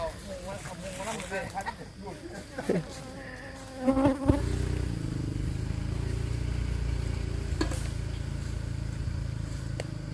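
Wild cavity-nesting honey bees buzz steadily at a farmed hive, a dense continuous drone that grows louder and fills the later seconds, with voices and brief clatter over it early on.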